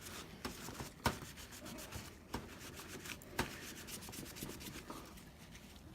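Isopropyl alcohol is rubbed over a PS4 Pro heatsink to clean off old thermal compound, making a faint, steady scrubbing rasp with a few sharper scuffs, close up and without talk.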